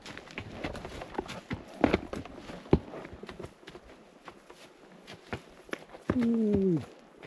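A ridden horse walks across open mountain ranch country, its hooves giving scattered, uneven clops at moderate distance, followed by a brief tonal squeal near the end.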